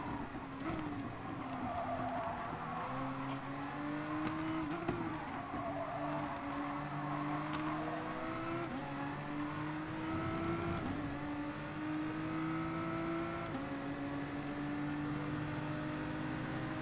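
Nissan GT-R engine in Gran Turismo Sport droning steadily through long upshifting pulls, its pitch climbing and dropping repeatedly between gear changes, with brief tyre scrub and no talking.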